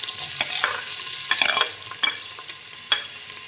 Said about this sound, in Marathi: आता हा टोमॅटो परतून घेऊयात